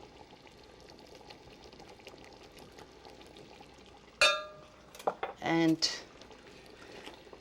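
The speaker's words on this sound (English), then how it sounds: "I'm going to just add on boiling water to this." Boiling water poured into a cooking pot of sauce seasoned with fresh bay leaves and peperoncino, a short burst of splashing and clinking pot sounds over low kitchen hum, with brief talk.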